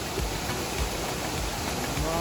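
Steady rain falls at a cape on the Ōsumi Peninsula in Kagoshima, a dense, even hiss of drops filling the whole clip with no breaks, close and fairly loud, and no voices.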